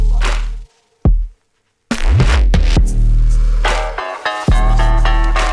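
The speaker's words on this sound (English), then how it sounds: "I took one of these snares here and just reversed it." Electronic drum hits ring out, including swelling reversed snare sounds that build up and cut off sharply, alongside booming bass tones, loud and close.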